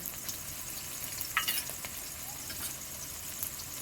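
Garlic, ginger and cumin pastes fry in a pan with a steady, close sizzle and crackle, joined by a few sharper spits and scraping stirs.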